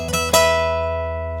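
An electric guitar slides up the neck to a blues note, a quick rising smear that lands on a loud sustained tone, which rings out and slowly fades, alone and close.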